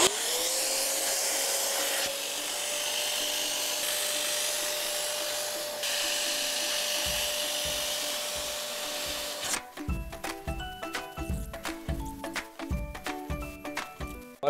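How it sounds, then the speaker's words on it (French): A Parkside injector-extractor vacuum cleaner runs with a loud, steady whine and rushing suction, then pulls liquid from soaked fabric upholstery in a 30-year-old Renault Mégane, giving choppy gurgling, scraping strokes over the last few seconds. "Maintenant il n'y a plus qu'à aspirer l'ensemble."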